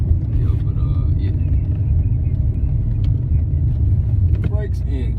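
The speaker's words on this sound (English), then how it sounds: "if you listen to your car roar let you know that you're out of gear" A manual stick-shift car's engine roars with a loud, steady low rumble from inside the cabin, continuous throughout with brief faint sounds on top.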